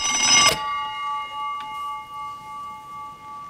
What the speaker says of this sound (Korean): 기다렸다는 듯이 시끄러운 소리를 내는 전화에